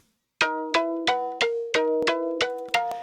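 Several synth layers from an OP-1 play together in a driving line of about eight evenly spaced plucked chords that shift pitch slightly and cut off sharply, close and clear with no voices.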